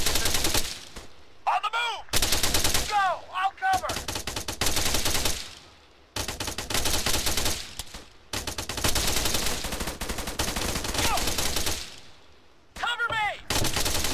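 Dense gunfire in the video game ARMA III, loud sustained automatic bursts and rapid shots with brief gaps, mixed with whistling ricochets, while several people talk tensely over the shooting.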